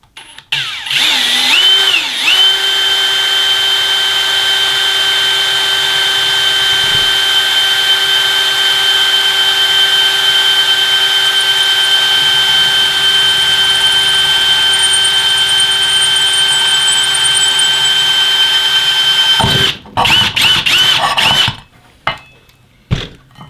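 A power drill with a 3/16 inch bit bores through metal for an Ikea hobo stove, giving a loud, close, steady high-pitched whine for about twenty seconds before spinning down and stopping with a few short bursts.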